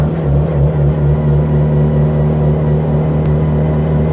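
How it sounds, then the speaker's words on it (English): A loud Lancia Delta Futurista rally car drones steadily with a deep, rumbling engine note, close and continuous, with no talking. "We're disturbing the peace here with this really loud rally car."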